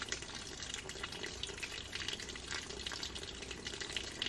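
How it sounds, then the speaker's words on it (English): Input water from a ram pump pours and splashes steadily from the pipe, a constant hissy rush of flowing water heard fairly quietly and alone. "so that right there is our input water coming from the ram pump."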